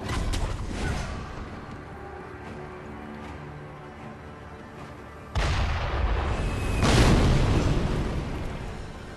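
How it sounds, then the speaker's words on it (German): Heavy booming blasts from a cannon in the game Sekiro, with a sharp loud burst partway through followed by a rumbling roar, over a busy game-like background. "Der hat eine ganze Kanone in der Hand."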